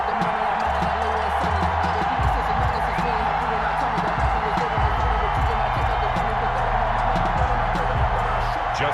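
A stadium crowd at an NFL game between the Chicago Bears and Baltimore Ravens makes a steady, broad roar, with a commentator talking over it for the whole stretch.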